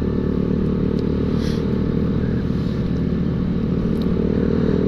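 Loud, throaty aftermarket KJS motorcycle exhaust on a Honda Beat scooter rumbling steadily close by on a main road, a rough idle with slight surges of revving throughout.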